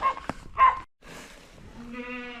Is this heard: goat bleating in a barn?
yes